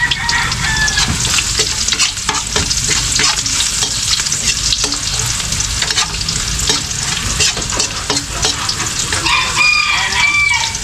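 Food sautés loudly in a pan in a barracks kitchen at breakfast, a dense close sizzle with stirring scrapes throughout, while a rooster crows faintly in the background near the start and end.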